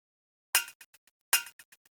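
Two bright glassy clinks from the dry Perky Nibbles sample layer, each followed by a few quick, fading taps, faint and isolated in silence.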